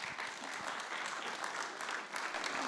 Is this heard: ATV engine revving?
no